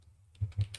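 Typing on a computer keyboard, a few quick soft key taps in a short uneven burst, close and quiet.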